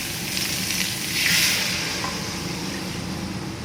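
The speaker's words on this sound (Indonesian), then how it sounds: "Ini terus saja ditumis seperti ini hingga dia mengeluarkan minyak ya" Spice paste sizzles and fries in hot oil for fish pesmol, a steady close crackle with a brief louder swell of sizzling partway through, no talk over it.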